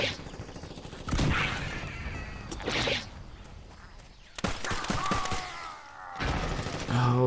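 Rapid gunfire and heavy cannon blasts from the shooter game Blitz Brigade, loud bursts of shots coming in repeated volleys with brief gaps between them.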